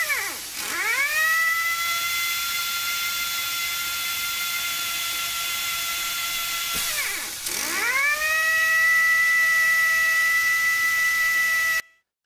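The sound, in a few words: AirMaster brush centering machine running in automatic mode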